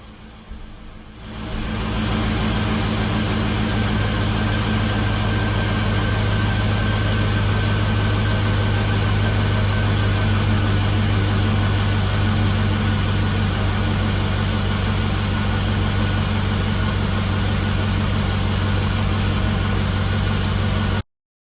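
A 2004–2009 GMC Envoy XL's 5.3 V8 idles steadily close by, a constant droning hum that rises within the first two seconds and holds evenly until it cuts off at the end.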